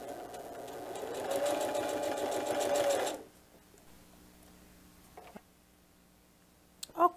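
A sewing machine stitches a diaper bag tote in one short, moderately loud whirring run of about three seconds, followed by quiet handling and a couple of soft clicks.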